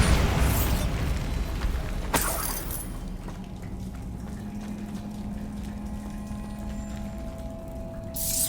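A Bombarda blasting spell from Hogwarts Legacy goes off in a loud, booming burst that settles into a sustained rumble. There is a sharp crack at the start, another midway, and a final burst at the end, with no talk over any of it.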